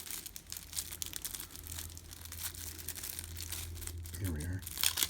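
A large crinkly packet of Godzilla Kaiju World Wars trading cards is torn open up close, a continuous mix of crumpling and tearing plastic with a low hum underneath and a brief voice near the end.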